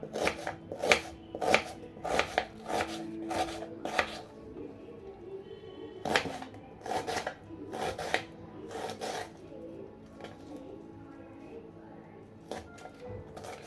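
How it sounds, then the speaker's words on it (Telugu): Onions chopped into small pieces with a knife on a board, in bursts of quick rhythmic taps separated by short pauses, close and fairly quiet. "ఇప్పుడు దీన్ని ఇలా చిన్న చిన్నగా కట్ చేసుకుంటాను"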